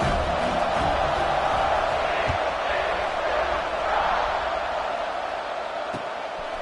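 A large stadium crowd at a Texas Tech football game roars in a steady, dense wash of cheering during a kickoff, loud and sustained with no clear breaks.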